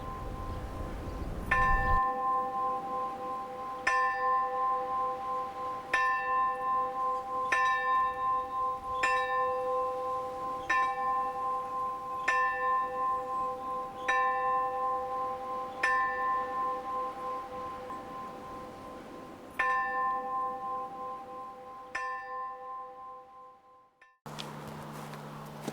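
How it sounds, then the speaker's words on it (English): A church bell at Moher Cemetery in Moher Old Parish, North County Kerry, Ireland tolls about a dozen times at a slow, even pace. Each strike rings out loudly and decays into a long hum before the next. "In Erin's plangent isle, this bell's without peer."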